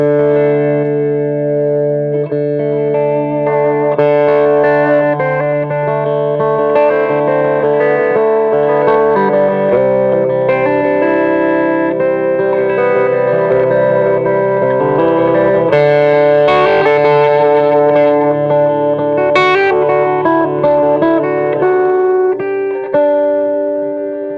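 An electric guitar through an overdriven PRS MT100 amp plays sustained chords and ringing notes with a gritty, slightly distorted edge, no voices.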